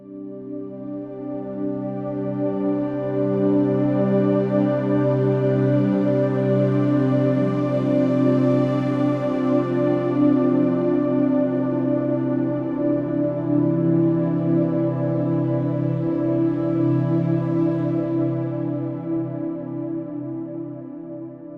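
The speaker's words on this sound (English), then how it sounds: "we have this really nice, lush, dense sounding reverb to complement our pad sound" A lush synth pad from Ableton Drift swells slowly under dense, washing reverb, its sustained chord tones blooming and fading in a smooth, continuous, airy wash with no voices.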